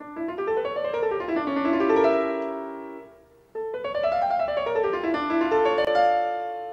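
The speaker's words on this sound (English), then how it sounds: "when it's not in an 8-bit harpsichord format, sounds like this version by the great pianist Andras Schiff." Solo piano plays a flowing, ornate Bach fantasia, performed by András Schiff, with rising and falling runs, briefly pausing before continuing at moderate volume.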